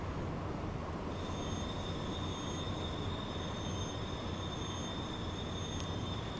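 A train runs on tracks in Transport Fever 2, a steady rumbling roll with a thin high wheel squeal drawn out over it, constant and moderately loud.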